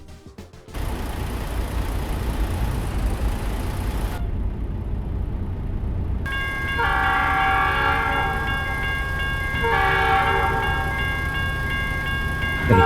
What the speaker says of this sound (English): Got a train holding us up here to go pick up this trailer, the Union Pacific.